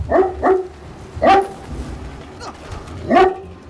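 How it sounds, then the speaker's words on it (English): A dog barks in short bursts, two quick woofs, then a single bark, a faint yip, and another bark, close by. "there's no reason to be barking"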